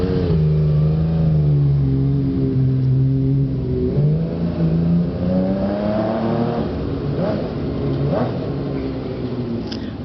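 A V12-engined motorcycle revs hard, its deep engine tone rising and falling in pitch through several sweeps, loud and near, with no talking.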